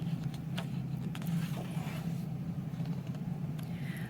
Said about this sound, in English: Their car roared as it zoomed through the streets of Paris.